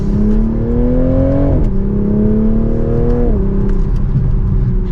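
A 2024 Toyota Supra 45th Anniversary Edition accelerates hard in sport mode and second gear, its engine droning loud and steady as the pitch climbs, drops briefly at a shift, then rises again from inside the car.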